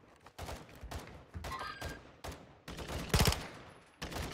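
Warzone 2 gunfire cracks out in repeated bursts and single shots, loud and close, with one especially heavy burst near the end and no talk over it.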